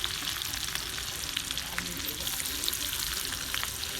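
Onion sizzles in hot oil with garlic and crackling mustard seeds, a steady close frying hiss with small pops, while a vegetable dish of gram greens cooks.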